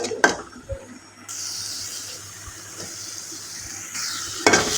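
Spices and chopped tomato fry in a pan, opening with clattering utensil knocks before settling into a continuous sizzle, with more scraping and clinks of a spoon near the end.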